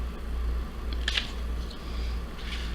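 A razor knife slices through an LED strip up close, producing a couple of short crisp snipping clicks over a low steady hum, with no talking.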